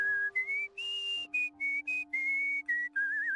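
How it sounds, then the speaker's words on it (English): A video game character whistles a quick, dexterous tune of short bright notes and slides over a soft sustained musical backing, with no talking. "dexterous whistle."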